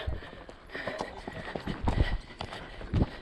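A trek horse named Dadou moves over ground at an equestrian TREC event, hooves giving irregular thuds and clops at close range, with a few heavier impacts and faint background noise.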